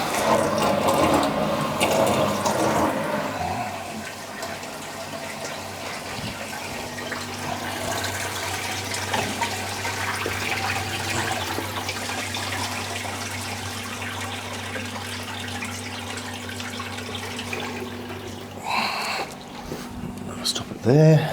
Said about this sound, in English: So I'm going to put a little bit more water into the sump.